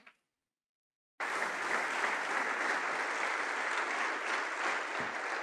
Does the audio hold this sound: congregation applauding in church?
yes